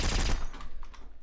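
Gunfire in War Trigger 2, a loud dense burst of rapid automatic shots in the first third, then fainter scattered shots trailing off.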